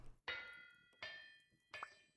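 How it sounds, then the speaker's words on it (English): A helve hammer in the video game Vintage Story strikes metal plates three times at an even pace, each blow a bright ringing clang that fades slowly, fairly quiet overall. "Helve hammer makes short work making plates."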